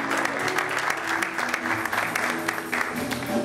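A church congregation applauds steadily throughout, with dense, close, sustained clapping under an ongoing voice.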